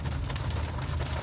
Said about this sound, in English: getting caught in a hailstorm at Rocky Mountain National Park